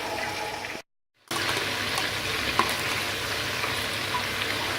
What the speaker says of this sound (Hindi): ये देखिए हमारा चिकन रोस्ट हो रहा है।